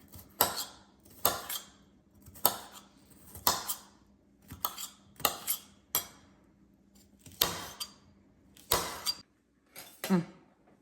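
A knife chops vegetables for ragi rotti on a cutting board, about a dozen sharp, evenly spaced knocks with light clinks, close and clear, with no talking.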